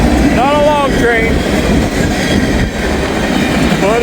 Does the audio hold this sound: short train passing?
yes